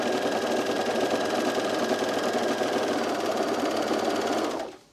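A serger sewing machine stitches pants, running at a fast, steady whirring chatter for several seconds up close, then stopping abruptly with no talk over it.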